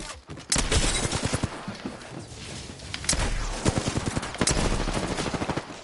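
Gunfire in the battle royale game Apex Legends, with rapid automatic bursts and sharp single shots crackling through most of the stretch, loud and close, with occasional footstep-like clatter between volleys.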